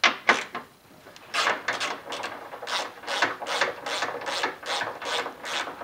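A ratchet wrench loosens bolts on a Subaru body panel, its clicking pawl sounding in repeated close, rhythmic bursts of several strokes each.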